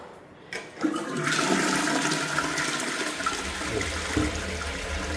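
An American Standard TF-2230SCW square wash-down toilet with a water-saving 3 and 4.5 litre dual flush, heard up close as a sudden loud rush of water that holds steady and then shifts to a lower gurgling drain.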